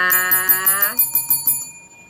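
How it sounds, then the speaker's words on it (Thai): A notification bell chime: a rising tone, then a quick run of about eight bright, ringing dings that fade out at the end. "กดกระดิ่งกริ๊งกริ๊ง"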